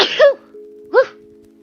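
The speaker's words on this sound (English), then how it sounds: "I had a sneeze." Two short, sharp bursts a moment apart, a stifled sneeze, close and fairly loud against a faint steady hum.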